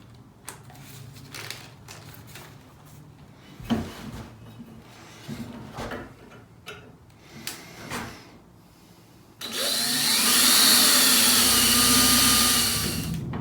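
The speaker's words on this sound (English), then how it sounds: "let's drill some mounting holes in this bracket" A drill boring mounting holes in a welded metal bracket, heard as a loud continuous whirring grind that starts abruptly near the end, after a stretch of quieter clunks and handling noises.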